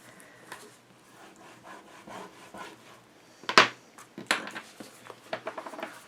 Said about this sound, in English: And we'll burnish.